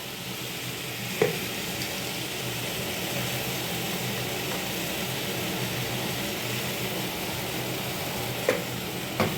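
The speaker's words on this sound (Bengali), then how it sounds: "মাছটা ভাজা হয়ে গেছে" Fish frying in oil in a pan, a steady even sizzle that holds at one level throughout, with a couple of brief clicks or taps on the pan, no talking.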